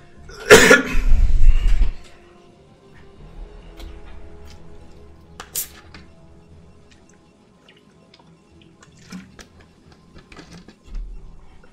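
A single loud, sharp cough right up close, followed by quiet room noise with faint ticks and clicks.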